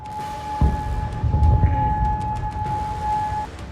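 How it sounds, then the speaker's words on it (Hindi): A steady, high-pitched wailing missile alert siren in Bahrain holds one tone throughout, with low rumbling and background noise underneath. "बहरीन में सुबह से ही मिसाइल अलर्ट के सायरन गूंज रहे हैं।"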